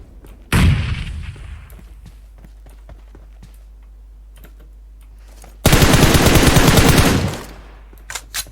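Explosions and gunfire in the PUBG Mobile battle royale: a sharp blast rings out early, followed by sparse distant pops, then a dense, loud burst of rapid gunfire lasting over a second before fading.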